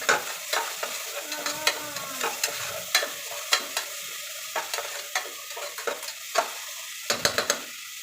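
Ginger garlic paste stirred into shallots and curry leaves frying in oil for a chicken curry, with close spatula scrapes and taps repeating in an uneven rhythm over a continuous crackling sizzle, no voices.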